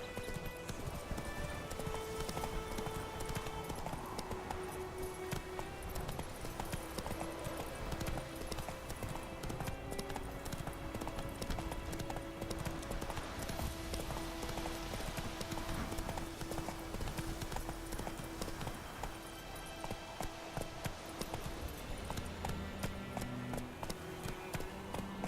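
Roach, a horse in The Witcher 3 video game, gallops with steady, rapid clip-clop hoofbeats over a continuous game music score, with an occasional whinny and no pause for the whole stretch.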